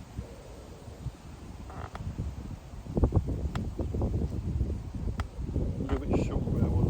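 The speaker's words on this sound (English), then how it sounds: "the wind has picked up a little bit" Wind blowing across Serpentine Lake in Hampton, a steady low buffeting rumble against the microphone that grows stronger partway through, with faint rustling over it.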